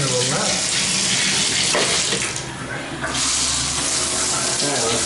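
Water gushes hard from a bathtub faucet turned fully open, a steady loud broadband rush that dips briefly in the middle before surging again, with no talk over it.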